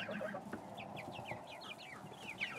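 A small flock of chickens, including a little chocolate-coloured rooster, cluck and chirp in quick repeated notes nearby, soft and steady over faint background noise.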